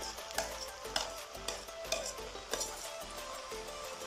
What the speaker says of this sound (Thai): ผัดให้เข้ากัน